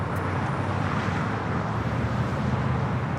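An ANA jet descends toward runway 25 right at LAX, a loud steady engine roar with wind noise filling the whole stretch.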